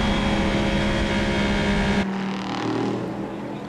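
LMP2 and GT race cars at Spa-Francorchamps, a loud droning engine note with a tonal whine that suddenly drops away halfway through as a car passes, leaving a lower rumble.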